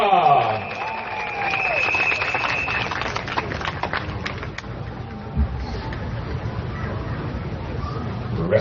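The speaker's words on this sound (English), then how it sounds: "How about a round of applause for Miss Eunice Chia" A crowd claps and cheers at an outdoor political rally in East Coast, a dense, steady wash of applause that runs throughout, with some voices at the start.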